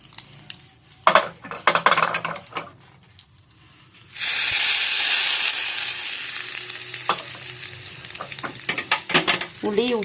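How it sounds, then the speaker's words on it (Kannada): Curry leaves dropped into hot oil for a tempering burst into a loud, sudden hissing sizzle that slowly settles, preceded by clinks of utensils against a pan and followed by occasional scraping stirs close by. "ಈಗ ಸ್ವಲ್ಪ ಕರಿಬೇವು ಹಾಕಿ ಒಗ್ಗರಣೆ ಮಾಡಿ"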